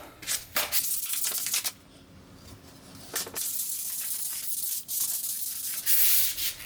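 Sandpaper rubs over a Purpleheart wooden sword in repeated close strokes, a dry rasping hiss that swells and breaks off in bursts with brief pauses between passes.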